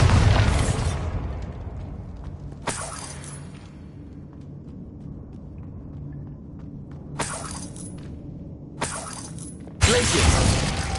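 Bombarda blasting spells explode repeatedly in Hogwarts Legacy, several sharp crashing bursts with rumbling decay and gaps of quieter ambience between them, loud and close.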